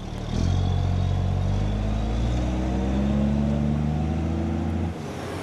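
The engine of a Simba military vehicle runs at a steady idle, giving a close, even mechanical drone with faint clatter that continues for several seconds before dropping off near the end.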